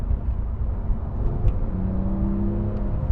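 Naturally aspirated engine of a Porsche 911 GT3 (991) around 4,000 RPM, a steady close rumbling whir with rising harmonic tones, no turbo, heard alone without talk.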